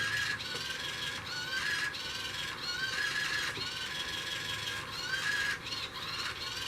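A hand-held, not-yet-bolted mechanism of a radio-controlled paintball gun runs continuously, whirring and ratcheting up close with a steady gear whine that surges in rhythmic pulses.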